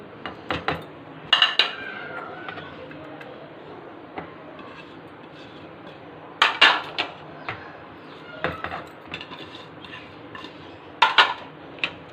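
Vegetables being mixed into a prepared flour batter in a bowl, heard as scattered clinks and scrapes of a utensil against the dish in irregular bursts, moderately close, with no talking.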